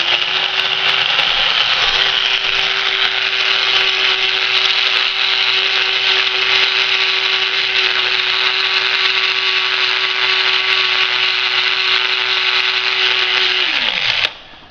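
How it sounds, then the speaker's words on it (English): A blade coffee grinder chopping two scoops of beans to a fine grind, giving a loud, steady motor whine that runs unbroken for about fourteen seconds and then spins down quickly as it stops. "one issue with the blade grinder is that they actually generate a little too much heat"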